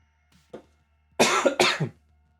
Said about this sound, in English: Oh, please excuse my coughing.